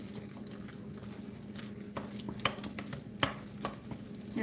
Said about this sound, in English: And stir it.